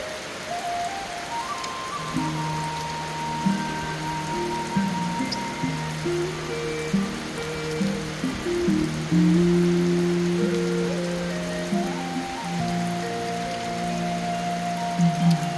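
Heavy rain falls steadily as a dense, even hiss throughout, with a sustained melodic tone line running over it.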